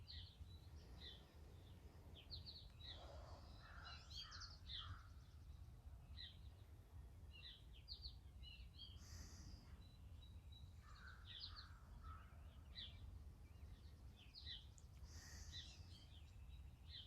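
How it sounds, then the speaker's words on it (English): Faint outdoor birdsong: several birds chirp and trill in scattered short bursts over a low, constant background hum, distant and quiet throughout. "listen and see how many different birds you think you can hear"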